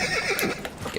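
A horse neighs in Assassin's Creed II, a quick, wavering whinny with faint hoof clops, close and brief.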